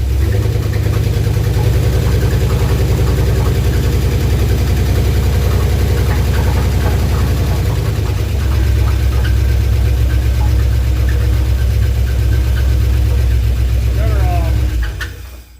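A 1968 Dodge W200 Power Wagon engine runs roughly, loud and close, with a heavy, knocking low rumble that shifts in tone partway through and then dies away at the end, with voices over it.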